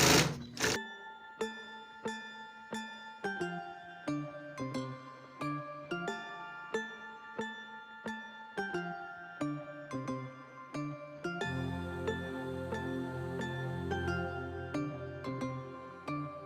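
Home sewing machine stitching binding onto a backpack through a folder attachment: short rhythmic bursts of mechanical whirring with regular pauses, then one longer continuous run near the end, close and clear with no voices.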